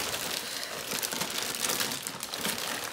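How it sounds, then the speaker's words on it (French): Packaged Maisons du Monde homeware, including glass items, being unwrapped, with continuous close crinkling and rustling of packing material. "je vais tout déballer pour vous montrer tout ça"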